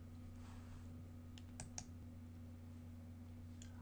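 Two or three small mouse clicks on a computer login button, brief and close, sitting over a steady electrical hum with no talking.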